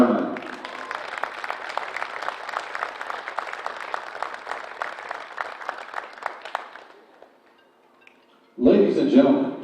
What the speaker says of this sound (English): join me in a round of applause for the Tusculum Baseball Class of 2022